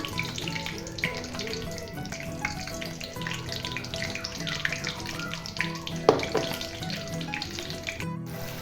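Ground masala paste sizzling in hot oil with curry leaves for a green cashew curry, a continuous crackling sizzle with wet spatters and a sharp stir clatter, close and steady with no talk.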